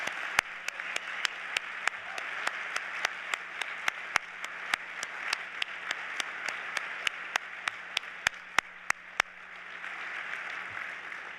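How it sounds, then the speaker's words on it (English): Steady audience applause fills a Hall of Fame induction ceremony, a continuous wash of clapping from a large crowd with a few sharper nearby claps standing out, lasting about eleven seconds before easing slightly. "let's all give them one more big round of applause, please."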